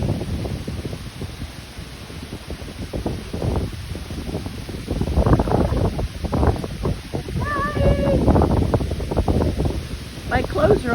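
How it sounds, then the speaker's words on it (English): Strong wind on a lake buffets the microphone in loud, continuous roaring gusts, with rustling and a voice talking over it. "Wow, you can hear the wind."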